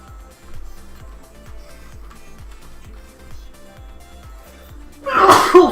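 A single sharp, loud sneeze bursts out near the end, following a quiet stretch of steady, rhythmic low background sound from a truck driving game.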